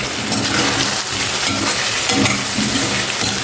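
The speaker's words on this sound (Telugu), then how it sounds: "అల్లం వెల్లుల్లి పేస్ట్ వేసేయండి ఇది ఇందులో బాగా కలిసేటట్టుగా కలపండి" Ginger garlic paste being stirred into a sizzling capsicum and potato curry, a spoon scraping steadily through the pan while oil crackles loudly and continuously.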